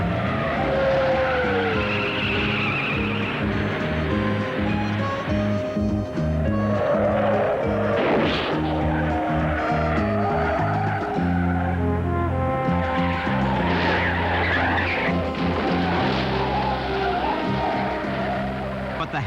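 Race cars at 1983 Indianapolis 500 practice, loud continuous engine roar with rising and falling pitch as cars pass, with tire squeal, heard alone without talk.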